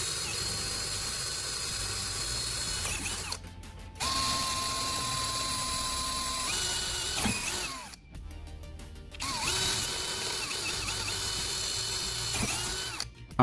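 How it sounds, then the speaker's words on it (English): A cordless drill whirring at full power and boring into wood, with a steady close motor drone broken by short pauses and ratcheting clicks, continuous and fairly loud. "Hear that powerful whir? The drill springs to life with full power and drills effortlessly into the wood."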